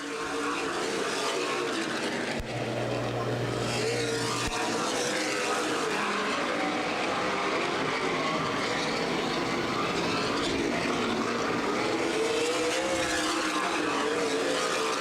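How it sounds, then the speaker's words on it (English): Stock race cars in a CRA Super Series last-chance race at Anderson Speedway pull away at the green flag. A loud, dense engine roar of the pack holds steady for the whole stretch with no voices. "To the green flag we go racing."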